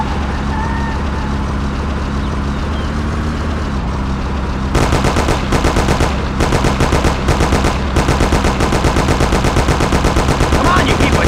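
Thompson submachine gun from the game Mafia on PlayStation 1, loud rapid automatic bursts that start after a few seconds of engine rumble and repeat in short volleys, close and dominant.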